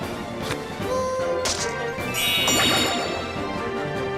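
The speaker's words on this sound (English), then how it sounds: "our little bell person definitely has the best noises, right?" A cheerful bell-like ding from the bell monster in Monster Rancher 4, ringing out with bright chimes and clangs over busy game music, several strikes across a few seconds.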